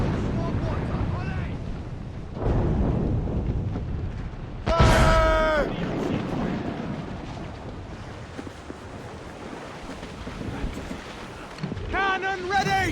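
Naval cannon fire from a sailing ship in Assassin's Creed Rogue: a heavy booming blast mid-clip over wind and sea ambience, with shouting voices around it.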